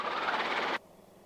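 A Robinson R22 helicopter engine in a low hover gives a loud, dense, steady roar for under a second, then cuts off abruptly to near quiet.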